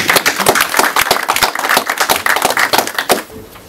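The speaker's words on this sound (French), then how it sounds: "Les applaudissements pour l'honorable." Clapping from an audience at a UNC France anniversary gathering, a dense burst of sharp hand claps filling the room at close range, steady for a few seconds before thinning out.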